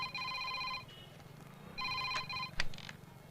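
A telephone ringtone chirps in two separate bursts of repeated electronic ringing, with a pause between them, followed by a short clunk and faint rustling near the end.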